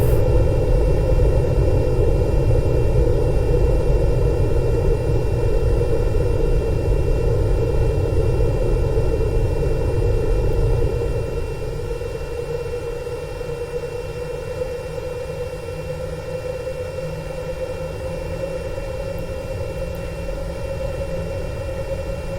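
A video-game aircraft flown hard like a fighter jet gives a steady, droning engine hum that holds constant, then settles slightly quieter about halfway through, with no talking.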